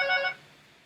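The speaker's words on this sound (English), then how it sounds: "Oops, that's the phone ringing." A telephone bell rings once, a bright trilling burst lasting about a third of a second that then falls away into near silence, heard alone with no talking.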